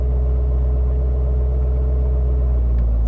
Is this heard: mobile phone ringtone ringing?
no